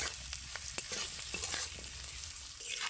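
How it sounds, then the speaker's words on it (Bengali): Whole spices for an Afghani egg curry fry together in a pan, giving a faint, steady sizzle with light stirring scrapes and small taps, alone and close. "এবার এই সব উপকরণগুলোকে আমি একসাথে ভেজে নেবো"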